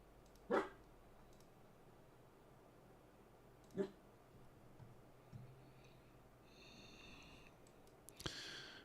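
A pet dog named Maxie gives two short, faint barks a few seconds apart, well off in a quiet room with a low hum and light clicking.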